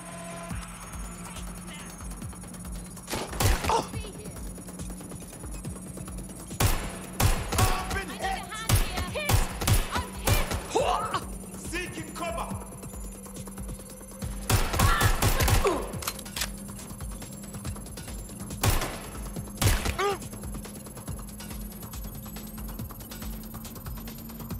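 Gunfire in the video game Watch Dogs Legion, loud sharp bursts of shots clustered in several volleys over a steady background hum, with mechanical clatter between them.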